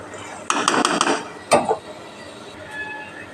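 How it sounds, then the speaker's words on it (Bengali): A metal lid set onto a cooking pot of vegetables with a clattering rattle, then a second sharp clank as it settles, close and fairly loud, with talking around it. "এবার আমি এটা ঢাকা দিয়ে দেব।"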